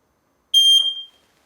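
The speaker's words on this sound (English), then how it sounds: "now is the perfect time to test your smoke detector" A single sharp, high-pitched smoke detector beep, brief and loud, in otherwise silence.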